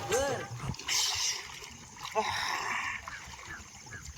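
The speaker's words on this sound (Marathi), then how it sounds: "आता आंघोळ करतो" Cold water splashes and pours during an outdoor morning bath, uneven splashes and trickles close by, fairly quiet, with some faint voice in the background.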